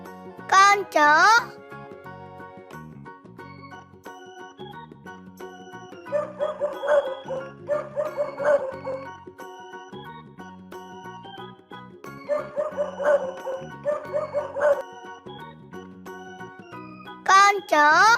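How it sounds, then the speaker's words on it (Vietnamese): A dog barks in two clusters of repeated short barks, moderately loud, over soft background music with chimes, with brief child-like spoken calls at the start and end. "Con chó."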